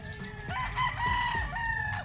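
A gamecock rooster crows at a game farm, one full loud crow close by with a strained, harmonic tone and a faint cluck at the start.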